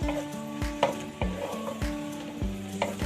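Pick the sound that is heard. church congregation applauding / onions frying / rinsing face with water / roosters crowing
onions frying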